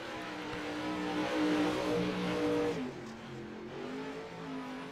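Late Model sim race car rolling out onto the track at Hales Corners Speedway, a steady engine drone rising in pitch, briefly dropping as it shifts, then climbing again, close and continuous.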